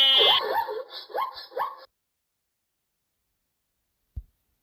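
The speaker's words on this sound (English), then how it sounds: "Zebra." A zebra call from an animal sound app: a few loud, yelping, barking bursts in quick succession over about two seconds, then silence and a faint thump.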